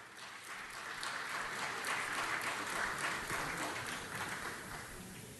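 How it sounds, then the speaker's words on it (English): Applause from a city council meeting audience, a steady broadband clapping that swells after the first half-second, holds through the middle and tapers slightly near the end, with no talk over it. "Let's give him another round of applause."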